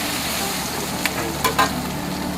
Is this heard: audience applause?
no